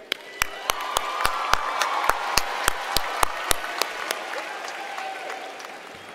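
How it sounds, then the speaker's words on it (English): Graduation ceremony audience at Park Crossing High School, class of 2018, applauding parents: steady dense clapping across the room with sharp louder claps standing out, fading gradually toward the end. "join me in a round of applause for your fine parents"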